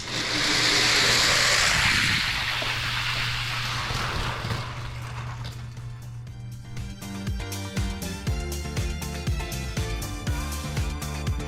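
Matchbox die-cast toy SUVs racing down a Hot Wheels track: a loud rushing whoosh at the start that fades, then a rapid series of sharp plastic clicks and rattles as the small cars roll and clatter along the track pieces.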